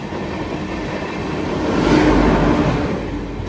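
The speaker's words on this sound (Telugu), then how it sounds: "గోడ్వానా ఎక్స్ప్రెస్ ని ఓవర్టేక్ కొట్టింది మథురా జంక్షన్ లో" A passenger train overtakes the Gondwana Express at Mathura Junction, a loud continuous rumble and roar of passing coaches that swells toward the middle and stays dense throughout.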